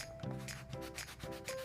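Sandpaper rubs over the corners and edges of a handmade wooden ring box in repeated short strokes, close and fairly quiet, with no speech.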